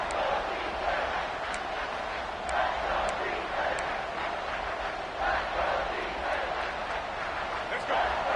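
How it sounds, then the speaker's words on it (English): A college football stadium crowd roars steadily as the defense tries to hold near the goal line, a dense, continuous wash of cheering that swells slightly in places. "And the crowd really making some noise now, trying to help out this defense to get this stop near the goal line."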